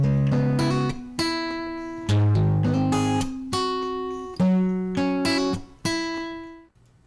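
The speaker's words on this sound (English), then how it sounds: "Another mode of this plugin is called hard clipping" A short plucked melody driven through the Air Distortion plugin's hard clipping mode, harsher and more squared-off in tone, with several struck notes sustaining heavily before dropping away at the end, close and loud with no speech.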